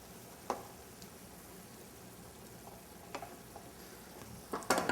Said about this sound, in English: Okay, last stir on everything.